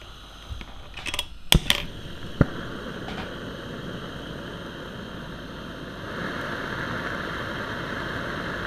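A Kovea Adventure TKL-N894 gas lantern in a room: a few sharp clicks and knocks come first, then a soft, steady gas hiss that grows a little louder near the end.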